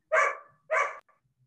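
A dog barks twice during an online meeting, two sharp, close barks in quick succession, followed by a faint trailing whimper and quiet.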